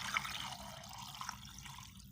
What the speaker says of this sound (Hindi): तो सबसे पहले हम इसमें शामिल करेंगे पानी।